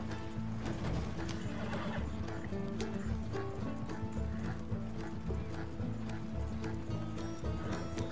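Busy Red Dead Redemption 2 game soundscape with steady hoofbeats and a horse whinny mixed into a dense, constant background of effects.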